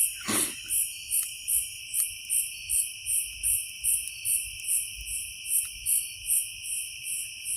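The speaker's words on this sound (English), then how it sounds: "now I don't hear any. I just hear crickets." Crickets chirp in a steady rhythmic pulse, about two per second, against a quiet night at a campsite, with a soft knock near the start.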